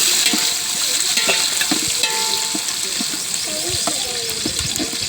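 Murthy's biryani cooks in a pan and is stirred, a loud steady sizzle with frequent scraping and clinking of the utensil against the metal. Faint background voices can be heard now and then.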